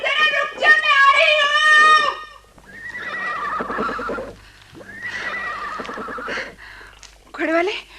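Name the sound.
horse neighing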